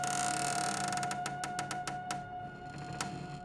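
A door slowly creaks open with a long, moaning creak, a sustained tonal whine accompanied by a series of dry ticking clicks from the hinge, fairly close and alone.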